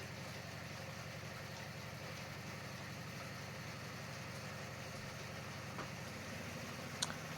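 Homemade rotary tiller with newly fitted cutters spinning on a test run, giving a steady, continuous low mechanical drone with engine hum that holds level throughout, plus a couple of faint clicks near the end.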